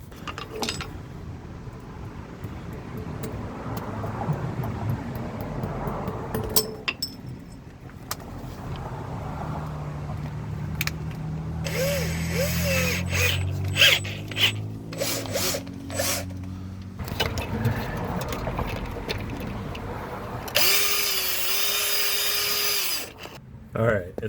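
Hand tools rasp and scrape while cleaning out a freeze plug hole in a Ford 460 engine block, in intermittent bursts of filing and rubbing, with people talking in between.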